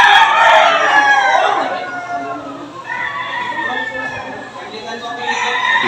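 Several roosters crow loudly and overlap at a cockfighting venue, their drawn-out calls nearby, with a crowd murmuring underneath and people talking.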